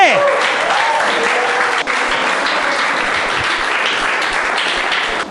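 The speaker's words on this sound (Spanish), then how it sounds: "Denle un aplauso fuerte." A church congregation breaks into loud, sustained applause during a sermon, a dense steady wash of clapping that continues throughout and fades slightly near the end.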